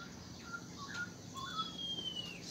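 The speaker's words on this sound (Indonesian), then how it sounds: "cucak hijau, itu cucak hijau, itu cucak hijau betina" Female green leafbird (cucak hijau) in a colony aviary gives a few short, faint chirps, then a thin, drawn-out whistle, over a quiet background murmur.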